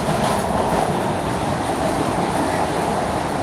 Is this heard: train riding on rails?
yes